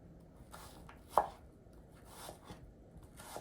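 A knife cuts through an onion on a cutting board in a few separate close strokes, one sharper chop standing out among softer cuts over faint background noise.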